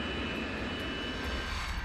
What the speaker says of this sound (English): Most planes take off and land on runway 13, or runway number 4.